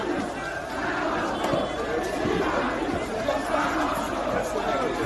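Protest crowd massed at the Lungi Airport entrance junction, a dense, continuous babble of many voices at steady loudness with no single speaker standing out.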